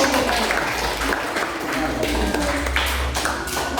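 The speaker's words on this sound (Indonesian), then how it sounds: "tepuk tangan untuk" Classroom applause from students, a dense steady patter of hands clapping close by for the full stretch with some voices mixed in.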